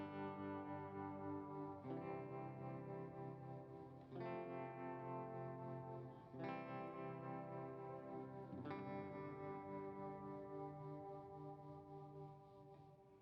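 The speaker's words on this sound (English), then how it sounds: "So there's a tremolo effect that's on from the amp, right?" Electric guitar chords ring through an amp with its tremolo effect on, pulsing louder and softer, with a fresh strum roughly every two seconds.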